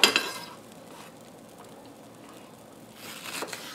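Onion frying in margarine in a pan gives a soft, steady sizzle, with a clatter of utensil against the pan at the start and a brief stirring scrape near the end.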